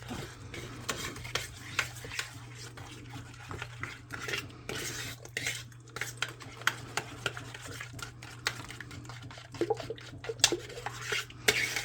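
Meatball sauce with soy sauce and sugar being stirred in a pot, a continuous run of scraping and light clinks from the utensil over a low steady hum.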